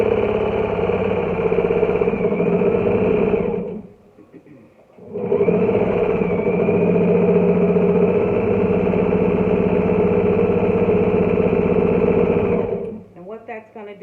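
A sewing machine stitches a casing in tulle netting guided along the presser foot, running in two close continuous bursts of rapid mechanical chatter with a short pause between them.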